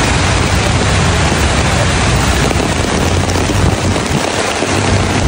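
Heavy rain on an outdoor street market where seafood is being bought: a dense, loud, continuous hiss of falling water, likely drumming on an umbrella, with no clear talk above it.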